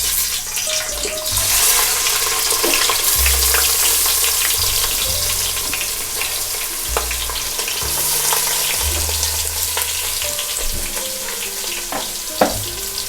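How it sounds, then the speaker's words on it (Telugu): Chopped onion and green chillies fry in hot oil for a sea crab curry, producing a loud, continuous close sizzle with occasional stirring scrapes and clinks throughout. "ఇప్పుడు ఆయిల్ హీట్ అయింది కదండి, ముందుగానే తరిగి పెట్టుకున్న ఉల్లిపాయ పచ్చిమిరపకాయ వేసుకుందాం."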